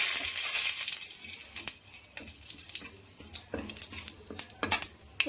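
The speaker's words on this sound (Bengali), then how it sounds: "ফোড়নে দিয়ে দিচ্ছি গোটা জিরে আর একটা তেজপাতা" Whole cumin seeds and a bay leaf sizzle in hot oil, a steady bright hiss with scattered crackles and occasional clinks of a utensil, close and fairly loud throughout with no talking.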